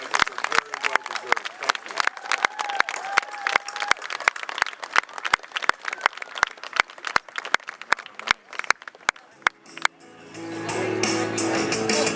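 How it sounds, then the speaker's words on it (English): Scattered audience applause at a sports Hall of Fame induction ceremony, sharp individual claps spread across the room, swelling into fuller clapping and crowd murmur near the end. "how about a round of applause for these 2 inductees again?"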